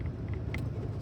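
Steady low rumble inside a moving car on the road, continuous and even, with a few faint high ticks over the drone and no talking.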